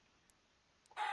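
A Minecraft chicken gives a single short cluck right at the end, loud and abrupt after near silence.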